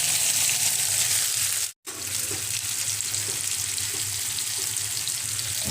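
Kachari and green chilies fry in hot mustard oil with mustard seeds in a pan, a loud, close, continuous sizzle broken by one abrupt momentary silence, with faint stirring clinks underneath and no talking.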